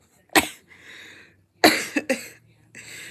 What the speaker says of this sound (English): Sorry, y'all heard that. I'm coughing.